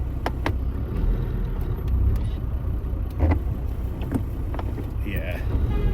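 Car passing on a city road with steady traffic rumble and low engine noise, a few sharp clicks and bumps on top, heard from inside a vehicle.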